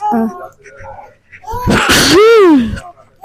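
After some quiet murmuring, a woman lets out a sudden loud sneeze, followed by a long wavering vocal moan as it trails off.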